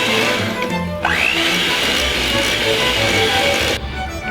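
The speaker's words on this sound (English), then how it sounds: "I'm going to cream together 2 sticks of butter" An electric mixer creams two sticks of butter for chocolate chip cookies, giving a steady loud whirring drone that shifts in pitch partway through and then drops off near the end, with no talking.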